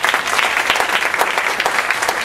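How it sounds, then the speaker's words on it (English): Loud, close audience applause at an education summit, a continuous dense burst of many hands clapping for a couple of seconds with no talking. "Please join me in giving him a round of applause."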